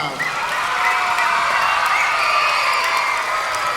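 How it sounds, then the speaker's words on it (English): A school assembly crowd of children claps steadily in a dense, continuous wash of applause, with a few cheers mixed in, staying loud for the whole stretch. "one more big round of applause"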